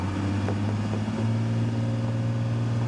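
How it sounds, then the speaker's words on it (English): A 1991 Dodge Ram 250 with a Cummins turbo diesel pulls hard under acceleration, a steady, loud low drone heard from inside the cab, with the pitch climbing slightly partway through. "Taking a nice sweeper here, and we'll lay into that motor a little."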